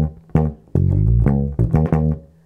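Solo bass guitar repeats the first bar of a funk bass riff, a few punchy plucked notes in a syncopated sixteenth-note pattern, close and prominent, with no voices.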